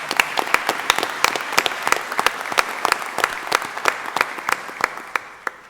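An audience at a county commissioners court meeting claps together, a burst of quick, crisp, sustained applause from a roomful of people, fairly loud and close, with no talking over it.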